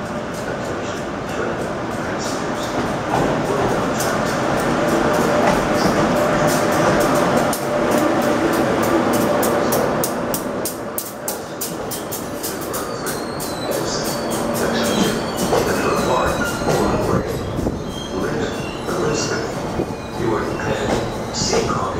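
Amtrak Acela Express and Northeast Regional trains at Trenton station rumble and clatter loudly past for a long stretch, with rhythmic wheel clicks and faint squeals, while a station announcement is heard underneath.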